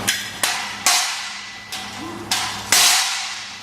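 Dead blow hammer pounding a steel plate in a shop, six sharp, loud, irregularly spaced impacts, each ringing briefly before decaying.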